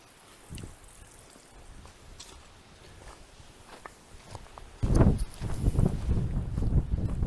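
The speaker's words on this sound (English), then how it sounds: "just still pretty windy" Gusty wind on the Appalachian Trail buffets the microphone, faint at first and then swelling into loud, rough rumbling bursts, with a few footsteps on the trail.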